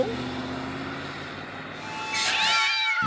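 A cartoon cat lets out a loud, rising yowl near the end, after a stretch of humming car-engine drone as a car reverses.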